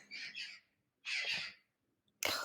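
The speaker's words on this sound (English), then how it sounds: "Those are some really loud crows." Loud crows cawing, three separate harsh caws with silent gaps between them, fairly close and clear.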